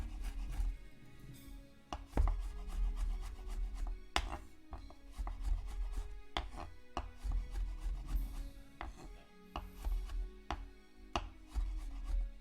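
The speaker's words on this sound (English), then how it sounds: "Take my knife and give that a quick mince." Quick repeated knife strikes mincing a pile of rosemary on a cutting board, close and crisp, in uneven bursts with soft scraping between the chops.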